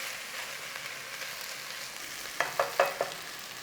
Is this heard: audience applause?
no